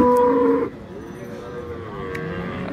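A Friesian cow at the Raniganj cattle market in Dinajpur gives one loud, drawn-out moo up close, then the market carries on with a low background murmur.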